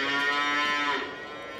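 A cow on a farm lets out one long, loud, close moo with a drawn-out harmonic tone, easing off slightly toward the end, with no talk over it.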